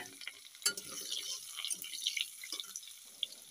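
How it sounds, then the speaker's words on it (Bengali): Potatoes frying in a pan with salt and turmeric give a steady, close crackling sizzle with small pops and a brief clatter near the start, heard alone without talk. "আমি এখন লবণ আর হলুদ দিয়ে আলুটাকে ভালোভাবে ভেজে নেব।"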